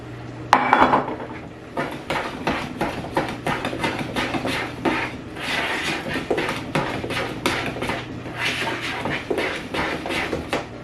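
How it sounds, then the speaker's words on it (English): A spoon stirring cornbread batter with melted butter, eggs and milk in a bowl, repeated scraping and clinking strokes in a steady rhythm, close and fairly loud. "And that's how you mix up cornbread"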